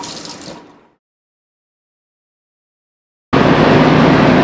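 Grey water running from an apartment tap after a building fire: a fading stream, nearly three seconds of silence, then a loud, steady gush of water pouring close by.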